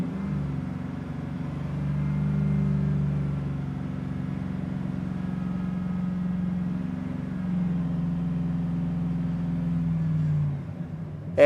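A car engine held at a raised idle of about 2,000 to 2,500 rpm during an alternator charging test gives a steady, fairly close rumbling drone that rises slightly, holds, then drops back near the end.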